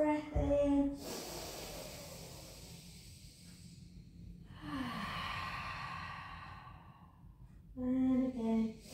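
Slow, deep breaths during a pilates session, a long hissing inhale or exhale drawn out between short spoken cues from an instructor.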